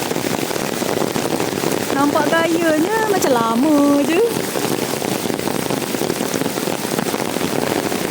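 Heavy rain pours steadily on a campsite in a broadband hiss, with a person speaking briefly in Malay over it partway through.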